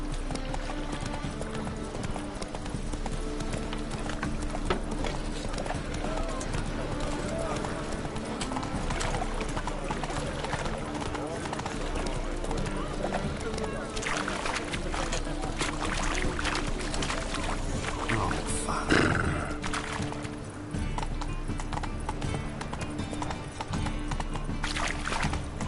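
Roach, the horse in The Witcher 3 video game, gallops with continuous rhythmic hoofbeats over a long stretch, with brief voices now and then.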